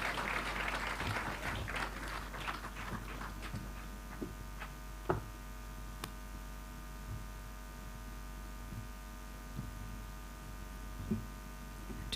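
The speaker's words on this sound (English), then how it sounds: "A big clap for her as she joins the podium," Applause from an audience at a Makerere University centenary celebration, a brief scattering of claps that fades within a few seconds, leaving a steady electrical hum and a few isolated claps.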